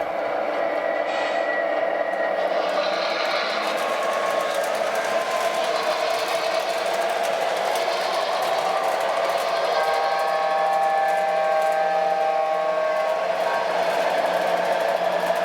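Several MTH model train locomotives run together on a single track loop in yard mode, giving a steady, continuous whirring motor hum and rail rumble that holds at an even level throughout with no speech.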